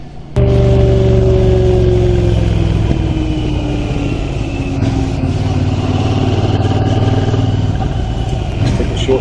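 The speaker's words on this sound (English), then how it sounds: "you can hear the exhaust noise on the bike" A steady, loud engine drone with a low exhaust rumble runs throughout, its pitch shifting slightly as the motorcycle rides along.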